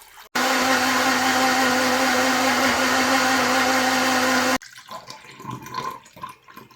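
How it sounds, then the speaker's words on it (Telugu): A mixer grinder blends chopped fruit and vegetable pieces with a glass of water for homemade juice, a loud steady whirring roar for about four seconds that cuts off abruptly, leaving quieter handling sounds. "మిగిలిన ఇవన్నీ మిక్సీ పట్టుకోవాలి"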